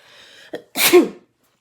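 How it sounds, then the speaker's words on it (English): A single loud sneeze from a person with seasonal allergies, with a short sharp inhale before the forceful burst, then silence. "Something bloomed last week and I've been sneezing nonstop."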